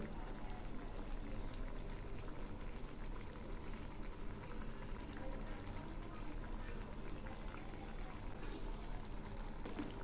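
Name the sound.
fish curry gravy boiling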